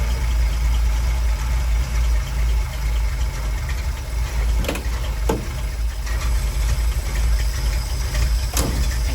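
An old Willys truck's 226 engine idles with a steady, loud low rumble throughout, broken by a few brief clicks and knocks.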